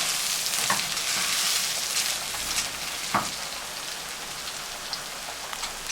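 Washed rice tipped onto browned vermicelli in a hot pan and stirred, giving a loud, continuous close-up sizzle like heavy rain with occasional scraping strokes, no talk over it.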